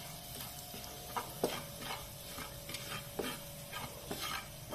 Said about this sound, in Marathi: मसाले चांगले परतले गेले